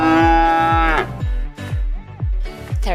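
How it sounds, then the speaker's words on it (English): A carabao, or water buffalo, lows loudly and close at a wildlife park in a few drawn-out calls, with a repeating low rhythmic beat running underneath. "A loud sound coming from a carabao."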